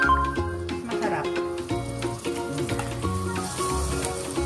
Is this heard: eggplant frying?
yes